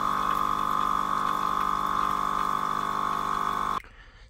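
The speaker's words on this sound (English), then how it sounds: "it will release around 80 ml of hot water." An illy iperespresso Y3.3 machine pumps out about 80 ml of hot water with a steady, close mechanical hum and trickle, then cuts off abruptly near the end, leaving quiet.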